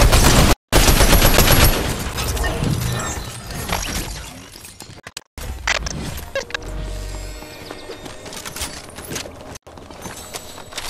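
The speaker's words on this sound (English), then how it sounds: "Is Kaysen getting shot at?" Gunfire in a video game rattles in dense, rapid volleys, loud and close, with bursts of shots overlapping through nearly the whole stretch and only a few brief gaps.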